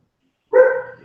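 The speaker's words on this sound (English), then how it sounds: "I hear my wife downstairs yelling at the dog to stop barking" A dog barks downstairs in a house, a single short bark that rings out after silence and fades quickly, moderately loud with no talk.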